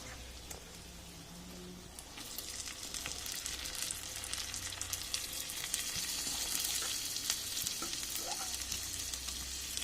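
Mutton sizzles and fries in a pan of browned spices, with a steady, dense crackle and spatter that grows louder and busier as the cooking goes on, with an occasional stir and no talking.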